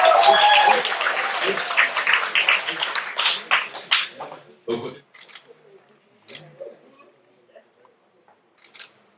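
Applause from an audience at the investiture of re-elected mayor Édouard Delta and his elected list, loud dense clapping at first that thins into scattered claps, with camera shutter clicks and some background voices.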